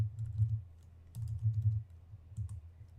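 Soft typing on a computer keyboard, short bursts of faint key taps separated by brief gaps over a low background hum.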